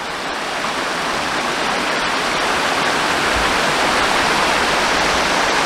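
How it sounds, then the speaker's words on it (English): A small waterfall pours into a stream outdoors, a steady broadband rush of falling water, loud and close, continuous with no talk over it. "It's just the water coming up a stream, really."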